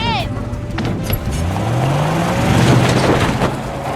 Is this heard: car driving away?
yes